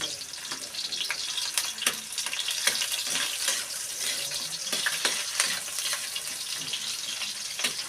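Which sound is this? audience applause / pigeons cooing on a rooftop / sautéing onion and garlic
sautéing onion and garlic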